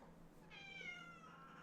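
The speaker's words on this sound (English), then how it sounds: "My cat has come to join." A male house cat gives a single drawn-out meow, faint and fairly close, in a quiet indoor room.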